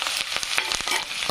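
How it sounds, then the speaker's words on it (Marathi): Onion and green chillies frying in hot oil in a kadhai for masala pulao, a steady close sizzle with brief crackling bursts and light stirring scrapes throughout. "कांदा आणि हिरव्या मिरच्या टाकून असं फ्राय होऊ द्यायचं।"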